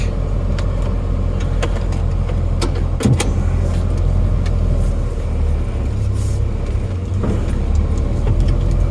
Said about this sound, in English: Clutch in. First gear.